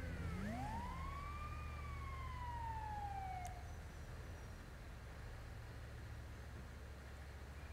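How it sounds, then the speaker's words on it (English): Ambulance siren in a driving video game with lights on, a single rising and falling wail sweeping up then fading over a low engine drone, moderately distant and quiet. "Go ahead, lights and sirens, and let's drive there."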